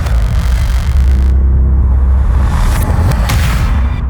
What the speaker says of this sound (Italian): Com'è il sound di questo motore?